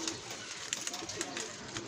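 A white pigeon coos softly at close range, with low repeated calls under light background noise and a few faint sharp chirps.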